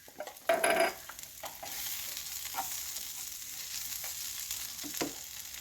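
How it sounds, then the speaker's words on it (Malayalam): Spices for a beef roast sizzle and fry in a pan while being stirred, a loud burst of sizzling near the start followed by steady frying crackle with occasional scraping stirs. "ഒരു അര ടീസ്പൂൺ മഞ്ഞൾപ്പൊടിയും കൂടി ചേർത്ത് ഒന്ന് നന്നായിട്ടൊന്ന് വഴറ്റിയെടുക്കാം"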